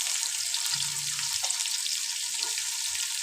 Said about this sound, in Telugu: ఆనియన్స్ మంచిగా రెడ్డిష్ కలర్ వచ్చేదాకా మనము ఫ్రై అయితే చేసుకోవాలి